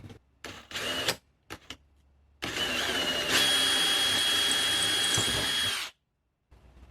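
A power drill whirs in a few short bursts, then runs steadily for a few seconds while boring into brass, close and loud before stopping.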